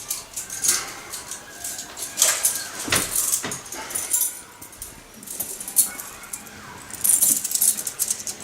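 Metal keys being slid off a spring in a physics demonstration, scattered bright jingles and clinks in short bursts, close and fairly clear over quiet room noise.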